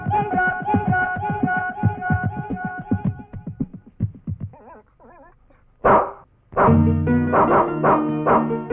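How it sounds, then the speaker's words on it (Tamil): A street dog barks in a rapid, loud run of barks near a house compound, then pauses and yelps before a final burst of barking. "எங்க வீட்டு காம்பவுண்டுக்குள்ள ஒரு தெருநாய் வந்து ரொம்ப தொல்லை பண்ணுது"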